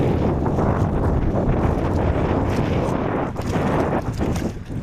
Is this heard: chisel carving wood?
no